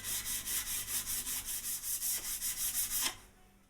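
Hand sanding on wood: about fifteen quick, rhythmic back-and-forth scratchy strokes, close and even, then stopping abruptly into quiet.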